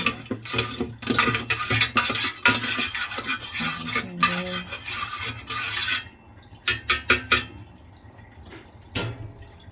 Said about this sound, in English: then give it a bit of a mix